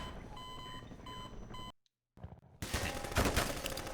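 Gunfire in the shooter game Half-Life 2 comes from an enemy firing up through the floor: electronic beeps give way to a brief silence, then a dense, loud burst of rapid shots fills the rest of the clip.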